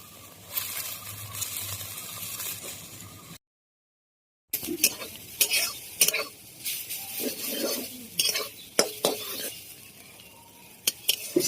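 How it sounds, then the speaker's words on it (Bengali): Kharkol leaves fry in a pan with salt and turmeric, a soft sizzle and then a string of clinks and scrapes as a spoon stirs them, broken by a brief silence midway. "আমি ভালো করে পাতাটাকে ভাজা ভাজা করে দেব।"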